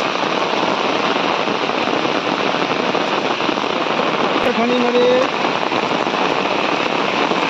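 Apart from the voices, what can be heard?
heavy rain falling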